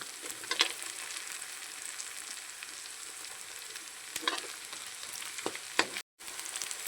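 Carrots frying with sautéing onions in a pan, giving a soft, steady sizzle punctuated by a few sharp stirring clicks and scrapes, close and quiet, with a brief dropout near the end.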